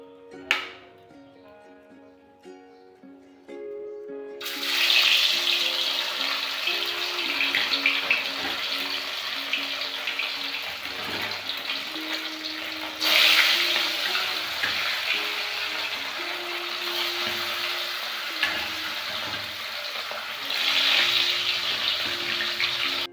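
Bele fish rubbed with salt and turmeric frying in hot oil in a kadai, a loud steady hiss and sizzle that starts abruptly and continues with brief louder surges.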